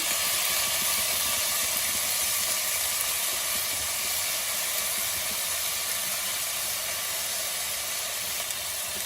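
Crushed ginger and garlic sizzling in hot oil in a pan for a dried shrimp curry, a steady loud bright hiss and crackle that runs unbroken throughout.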